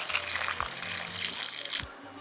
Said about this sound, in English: you'll go ahead and add boiling water